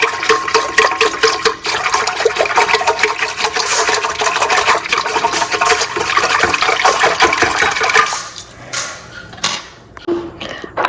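Water poured steadily into a bowl of bread dough ingredients, a continuous splashing stream at close range that tapers off and stops near the end, leaving a few small clinks.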